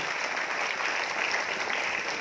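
A crowd at a Dalit Mahasangh anniversary gathering in Kolhapur applauds honoured students, steady dense clapping that holds at an even level throughout.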